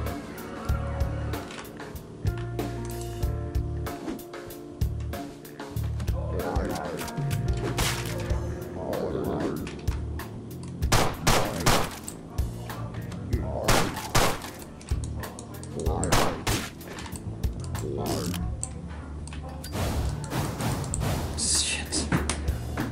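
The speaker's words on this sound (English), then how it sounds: "Got guns on every floor, Reaper. I'm going to try to kill them all for you guys." Gunfire fills a Deadbolt video game session: repeated sharp shots and thuds over game music and effects, loud and busy throughout the stretch.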